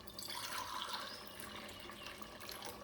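Water pours steadily into a pot of Sona Masoori rice for pulao, a soft, continuous splashing stream with no voices.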